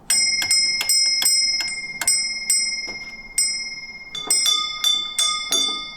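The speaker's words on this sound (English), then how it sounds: "The sound of the bell, I guess that's something that immediately pricks in the miller's ears" A windmill bell rings in irregular strikes, each bright metallic ding ringing out and then fading, some close together and others spaced apart, alone with no talk.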